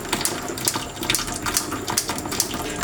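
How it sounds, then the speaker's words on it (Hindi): Cold tap water streams steadily over sabudana (tapioca pearls) held in a strainer at a kitchen sink, a continuous splashing hiss with small bursts as the pearls are rinsed, close and moderately loud. "अब आपने टैप के नीचे करके तो इसको ठंडे पानी से इस तरह मज़ीद इसको नीट करना है"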